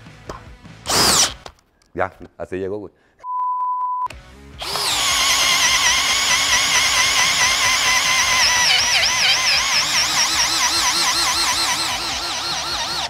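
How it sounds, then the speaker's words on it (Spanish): After brief speech and a short beep, a Bosch GSB 18V-50 cordless drill whirs loudly and continuously near the microphone, its pitch wavering slightly as it runs. "Vamos a llevar ese taladro al extremo."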